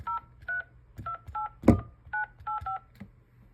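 Telephone keypad tones entering a date of birth: eight short, evenly spaced DTMF beeps with a brief clunk partway through, clear and fairly quiet.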